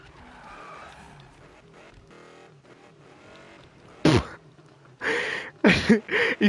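A cheap taxi in Need for Speed III revs hard into a burnout, with loud bursts of tire squeal and skidding that repeat near the end over a quieter engine drone.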